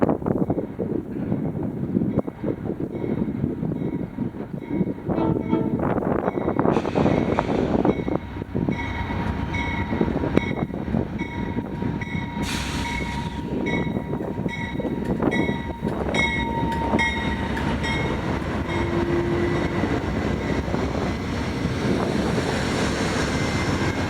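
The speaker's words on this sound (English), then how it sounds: "Amtrak Southwest Chief number 4 to Chicago arrived with P42DC 205 leading" Amtrak Southwest Chief passenger train arriving on the BNSF Needles subdivision with a P42DC diesel locomotive leading: a loud, steady rumble of engine and rolling wheels throughout, with wind buffeting the microphone.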